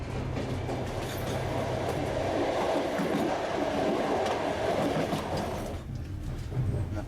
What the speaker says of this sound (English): we embark on a long overnight train journey to Baku